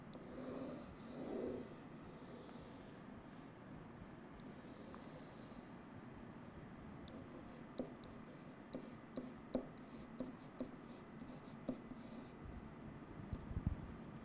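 Marker or chalk squeaking and tapping on a classroom board while the TCP/IP model is drawn, a steady scratchy rub with a run of short sharp strokes and taps in the latter half, fairly quiet against room noise.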